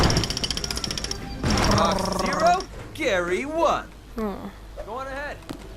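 A rapid, buzzing pulse of a drill in the LEGO Jurassic Park video game runs loudly for about a second and a half, then voices talk over the game.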